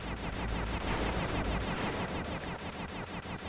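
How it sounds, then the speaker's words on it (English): Rapid, dense gunfire in the Sly 2 video game, with shots ricocheting, sounds as a loud, continuous barrage of overlapping bursts across the whole span, with no talking. "But our shots now ricochet."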